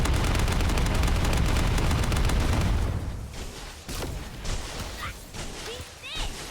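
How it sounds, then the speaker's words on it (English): Suppressing fire from air support in a sci-fi shooter game: about three seconds of dense, loud rapid gunfire and blasts, then scattered impacts and electronic effects while a voice speaks. "On your signal, we'll initiate suppressing fire."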